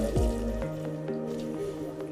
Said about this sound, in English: Turn on the tap and wet hands.